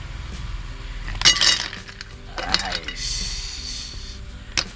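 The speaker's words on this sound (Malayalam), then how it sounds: "ഇതാ സാധനം ഐസ് ക്യൂബ്" Ice cubes clink and rattle together in a few short bursts, close by, with light handling noises between them.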